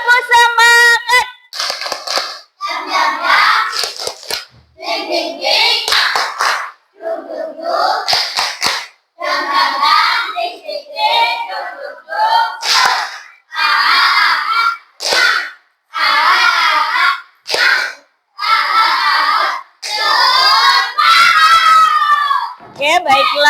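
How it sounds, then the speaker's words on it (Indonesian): Schoolchildren in a classroom chant the rhythmic 'tepuk semangat' cheer together, loud unison voices alternating with sharp bursts of group clapping over about twenty seconds. "Kita tepuk semangat dulu anak-anak"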